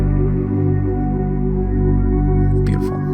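A loud FL Studio beat layers a vintage-style R&B vocal sample over heavy, booming bass and drums, sustained and dense throughout, with a brief brighter burst near the end and no talking.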